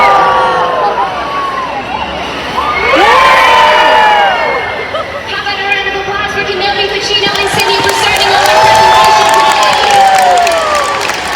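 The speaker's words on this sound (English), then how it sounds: "How about a round of applause" An aquarium audience at a dolphin show cheers and claps, children shouting and whooping in swelling waves, with a speaker's voice amplified over the crowd.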